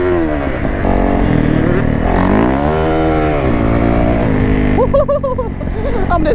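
A two-stroke dirt bike engine revs hard and close, its pitch sweeping up and down in loud, continuous bursts through the whole stretch.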